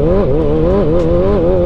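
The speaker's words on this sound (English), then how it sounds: "allow the revs to go up and blip the bike" A motorcycle engine revved hard with the clutch pulled in, a loud, close, continuous drone whose pitch rises and dips slightly with each blip of the throttle.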